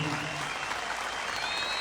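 Crowd at a football club's season opening event applauding the club president, a dense continuous clapping that stays loud and even throughout, with some voices mixed in.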